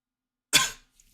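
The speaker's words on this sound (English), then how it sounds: "All of a sudden, cough." A single sharp cough bursts out close and loud, a brief harsh rasp that trails off quickly, followed by faint breathy noise.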